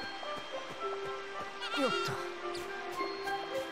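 An alpaca in the video game Ni no Kuni: Cross Worlds lets out a single wavering, nasal bleat, close and moderately loud, over steady background game music and soft ambient tones.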